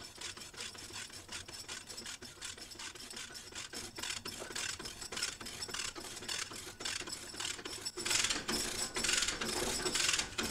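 A lever hoist in lifting mode ratchets steadily to compress an SL-Series line array speaker rig. Continuous close clicking runs throughout and gets louder and more grinding near the end.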